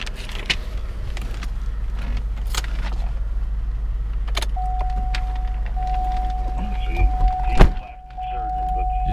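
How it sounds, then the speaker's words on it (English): Keys jangle and click in the ignition of a pearl white 2007 Cadillac DTS, with a few brief metallic rattles and a thunk, while a steady electronic chime tone sounds from midway on inside the cabin. "Just turn the key on"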